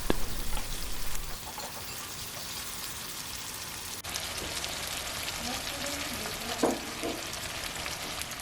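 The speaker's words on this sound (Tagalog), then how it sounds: "Then you have to mix it until the mayonnaise will be fully absorbed by the pork" Pork sisig mixed with mayonnaise sizzles steadily in a hot pan, a soft hiss like light rain with occasional faint scrapes of stirring.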